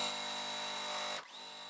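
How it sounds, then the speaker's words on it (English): A sewing machine stitching dark and background fabric pieces for a half-square-triangle quilt block, its steady motor whine running close and loud before cutting off abruptly near the end. "So I'm just going to sew it step by step so you can see how I do it."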